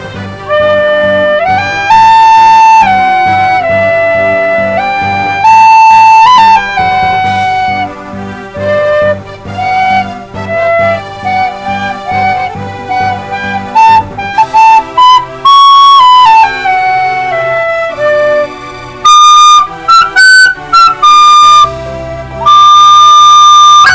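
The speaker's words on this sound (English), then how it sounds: "Maybe I should play some Irish tin whistle to pass the time." An Irish tin whistle plays a lively jig, bright ornamented melody over a steady strummed backing, continuous and loud throughout.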